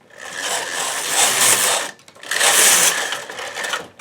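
Knitting machine carriages, a lace carriage and then the main carriage, run across the needle bed while a baby beret is being knitted. Two loud rasping, whirring passes come with a brief pause between them, and no one speaks.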